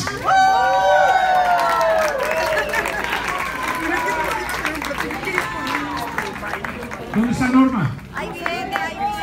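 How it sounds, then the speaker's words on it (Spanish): An audience applauds for Norma Valdés at an awards event honouring women rock and blues performers, with sustained clapping and crowd noise under an announcer's amplified voice. "Que el aplauso se deje sentir para Norma Valdés"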